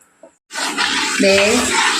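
A spoon stirs ada pradhaman with coconut milk in a pan, a steady scraping swish with a faint bubbling simmer close by.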